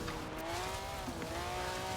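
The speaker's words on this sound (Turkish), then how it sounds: "Araba bir an hızlandı ya." Ferrari 575M racing in Forza Horizon 4, its engine a steady sustained drone with rising tonal whine, loud and continuous with faint tire noise beneath.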